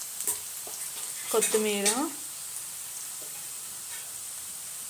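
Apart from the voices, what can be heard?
okra, chilli and cumin frying in a pan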